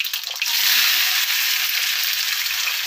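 Fennel seeds and cumin seeds sizzle in hot oil for a chicken curry dosa, a loud, steady, bright hiss that flares at the start and then holds evenly, with no voices.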